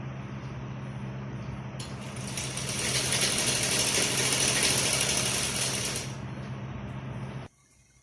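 A sewing machine stitching the hem of a salwar runs in a close, whirring burst that builds and holds for several seconds, then slows and stops abruptly, with no talking.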